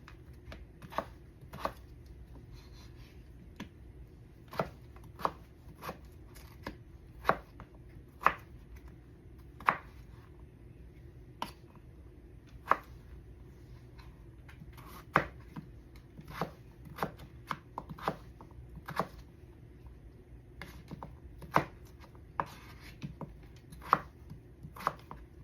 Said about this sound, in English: So I'm gonna cut them up small pieces while I wait for the frying pan.